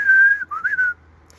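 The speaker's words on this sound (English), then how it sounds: "A good example of a code is le sifflet du couvreur, the roofer's whistle." A Parisian roofer gives the traditional roofer's whistle call, a short melodic whistle with a sustained note, a brief dip, then a rising flourish that trails off, clear and alone.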